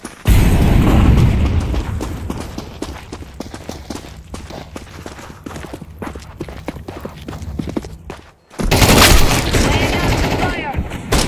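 Gunfire in Counter-Strike 2: rapid, loud bursts of shots repeat over several seconds. There is a short silence, then a sharp, dense blast of noise. Game voice lines can be heard faintly under the shots.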